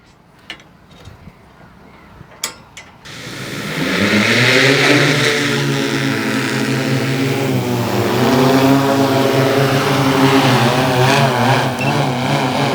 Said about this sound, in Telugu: ఒకసారి డ్రోన్ లేపండి